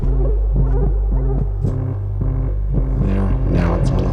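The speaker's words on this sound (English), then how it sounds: "Now you can really hear it being weird. It is on a sample and hold." A voice run through a Moog Sub37 synthesizer's sample-and-hold effect becomes a steady throbbing, stepped buzz that pulses rhythmically and loud, with the words unintelligible.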